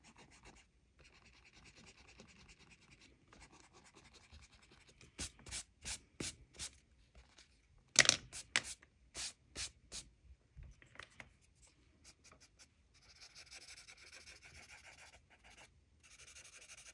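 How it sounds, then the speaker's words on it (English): Eraser rubbing out pencil lines on paper for a small mandala drawing, soft quiet scrubbing at first, then a run of sharp, rapid back-and-forth rubbing strokes in the middle, easing back to gentle rubbing, close and alone. "I'm going to take my eraser and erase these outside lines."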